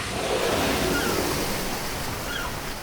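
Ocean surf rolls on as a steady, dense wash of waves with no gaps, used as a sound effect and heard alone without any talk.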